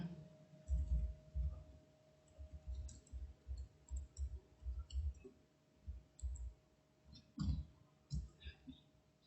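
A computer mouse clicking repeatedly at a desk while using reference software, with a steady series of sharp, close clicks in irregular clusters and no speech.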